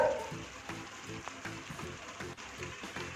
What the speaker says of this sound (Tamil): நல்லா அது தொக்கு தொக்குன்னு மேலே வந்து தெறிக்கும்.